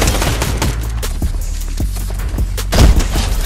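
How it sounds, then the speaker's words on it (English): Shots fired by a bot in Fortnite, a series of punchy gunshots and thumps spread across the clip, with a heavier blast near the end. "Oh, the bot shooting at someone."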